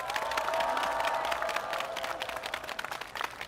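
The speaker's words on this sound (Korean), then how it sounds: "다시 한번 박수 보내주십시오" Crowd applause and cheering at a Korean presidential campaign rally in the Gwanak, Dongjak and Geumcheon districts, steady and fairly loud, with a tonal ringing of voices or a horn running underneath.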